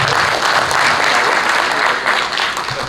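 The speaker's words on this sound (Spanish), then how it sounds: "Ahí está el aplauso para Osvaldo, vamos." An audience at a business forum applauds a speaker, the director of a market research firm, with loud, sustained, dense clapping close by throughout.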